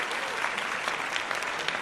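Brief, dense applause for a podcast guest, steady clapping throughout at moderate loudness with no voices.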